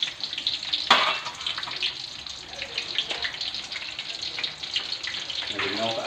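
Dried fish frying in a pan, a continuous crackling sizzle with bright spitting pops and occasional louder bursts over several seconds.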